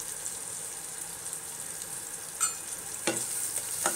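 Chopped onion frying in oil, a soft steady sizzle throughout with a couple of brief clinks near the end, no voices.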